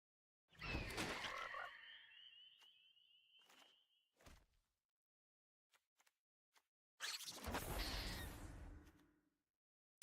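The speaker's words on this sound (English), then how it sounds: "another frog, another creature filling our curve" Frog creature croaking in a video game during a live stream, a loud burst followed by a scratchy trailing tone, then scattered short clicks and a second loud croaking burst near the end, heard alone without talk.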